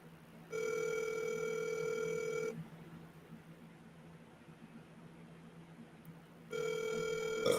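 A phone's ringing tone sounds twice as a steady electronic trill, a long first ring followed by a pause and a second ring starting near the end, clear over a low background hiss.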